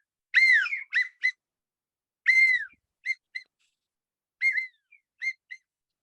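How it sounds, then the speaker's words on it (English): A widgeon duck call whistle blown in short bursts: clear, high, pure whistled notes, some sliding, in three groups of quick chirps separated by silence, close and alone. "This is a widgeon whistle."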